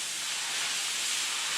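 Noodles dropped into a hot wok for lobster Singapore noodles, a loud steady sizzling hiss that fills the whole moment with no pause.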